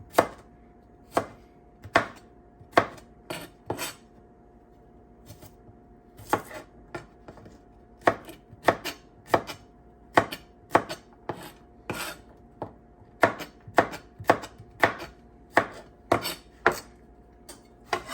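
A knife chops peppers on a cutting board in a steady run of sharp, close thuds, some in quick bursts of two or three, with brief pauses between groups and no talking.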